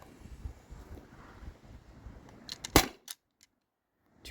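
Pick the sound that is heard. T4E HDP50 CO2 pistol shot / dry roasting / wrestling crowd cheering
T4E HDP50 CO2 pistol shot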